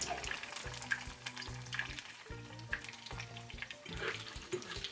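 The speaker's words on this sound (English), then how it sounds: "So I'm going to go ahead and fry that up." A salad ingredient frying in oil in a pan until crisp and golden, giving a steady, moderately loud sizzle with background music playing throughout.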